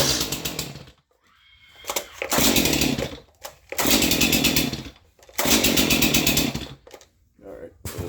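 Rebuilt Stihl MS-251 chainsaw firing up and running in loud close bursts, revving hard then dropping off between pulls, with short quiet gaps and voices speaking in between.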